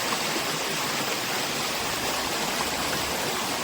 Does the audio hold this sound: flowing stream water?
yes